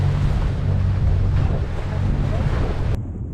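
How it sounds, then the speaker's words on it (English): A sailboat's engine runs at sea, heard from the deck as a low, steady droning hum. Gusty wind buffets the microphone over it, and the sound cuts off abruptly near the end. "it's more pleasant to run the engine while we're all on deck as opposed to being in the cabin where it's really noisy"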